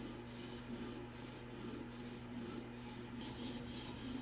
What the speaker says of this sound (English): So I'm using a scrubbing action right now, just because there's a lot of grinding to do